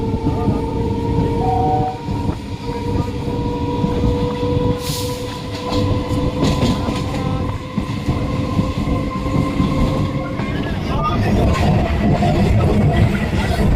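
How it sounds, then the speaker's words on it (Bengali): The Goghat local train runs steadily between Singur and Kamarkundu, a loud continuous rumble and clatter of wheels on rails with a sustained tonal whine and a brief sharp burst partway through. "সিঙ্গুরের দ্বিতীয় রেলগেট ক্রস করে এখন আমাদের ট্রেন এগিয়ে চলল পরবর্তী স্টেশন কামারকুণ্ডুর দিকে"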